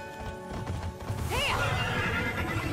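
In the video game Immortals Fenyx Rising, a horse lets out a sharp, close whinny midway, with hoofbeats and game background sounds around it.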